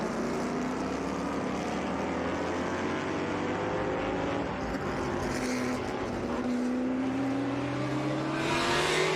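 Vintage race cars, including Ford GT40s, climb through the esses at VIR, their engines droning loud and steady with rising pitch as several cars pass in sequence, a brighter surge building at the end.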